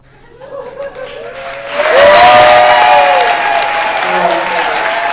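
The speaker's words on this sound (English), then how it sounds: "The school season for Joplin High School gets off to a round of applause." A Joplin High School assembly crowd breaks into loud applause that swells and holds, with a little cheering and chatter mixed in.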